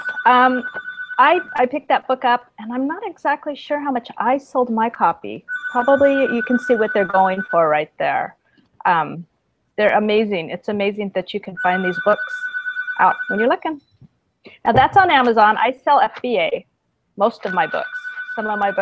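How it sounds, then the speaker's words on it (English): A telephone rings in repeated steady bursts through an indoor conversation, its tones sitting under ongoing talk as people chat about selling books. "sorry about the phone."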